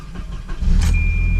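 A Volvo 240 with the LH 2.4 engine cranks briefly and then catches, settling into a loud, close, steady idle.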